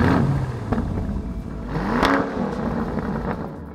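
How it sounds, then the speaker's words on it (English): A Lamborghini Urus SUV with a 4-litre twin-turbocharged V8 petrol engine revs hard nearby, a loud throaty roar that rises and falls in bursts with a rumbling idle between. No one speaks. "the Urus has a 4-litre twin-turbocharged V8 petrol engine"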